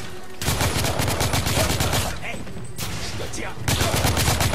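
Rapid gunfire from shooters in The Order 1886, loud bursts of automatic fire rattling in long volleys with a brief lull in the middle.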